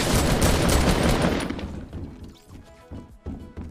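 A new gun firing in the Fortnite video game: a dense, loud volley at the start that thins into a few slower, separate shots.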